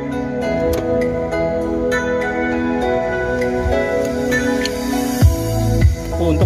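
Steady music with a full, bassy tone plays continuously through a Kenwood DMX120BT head unit and standard speakers in a 2015 Mitsubishi Delica, with a couple of punchy low thumps near the end.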